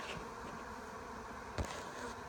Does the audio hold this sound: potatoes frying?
no